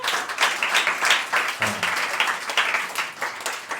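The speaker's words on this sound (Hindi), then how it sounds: "एक बार तालियां बजाइए।" A stand-up comedy audience claps in a moderate, uneven burst, with individual claps audible through the brief applause.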